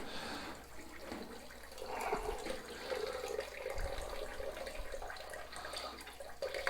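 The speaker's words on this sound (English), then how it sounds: "I'm back to pushing down on the sponge and wringing the water out." Water trickles and splashes as a sponge is pressed and wrung out while cleaning an oven, a faint, continuous watery wash with soft drips and small squelches.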